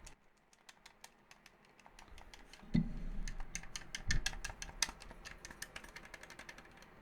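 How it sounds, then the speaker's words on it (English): Quiet, scattered clicks of micro switch buttons being pressed one after another on a DOYOKY retro game controller, close up, with a couple of duller thumps in the middle. "So we'll do a button test, see what all the buttons sound like."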